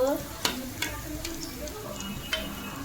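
Fish roe fritters fry in hot oil with a steady, close sizzle, broken by a few sharp clicks and taps of a utensil.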